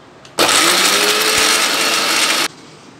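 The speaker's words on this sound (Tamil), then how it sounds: "இப்போ இந்த கடுகு வெங்காயத்தையும் போட்டு நல்லா அரைச்சாச்சுப்பா" A mixer grinder whirs loudly for about two seconds while grinding mustard seeds and onion, starting abruptly and cutting off sharply, a steady close motor roar.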